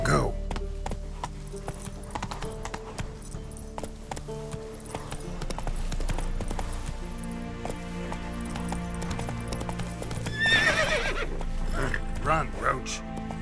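Roach the horse from The Witcher 3 galloping with steady rhythmic hoof clops under game music and effects, a brief whinny-like burst near the end, and a voice speaking over it.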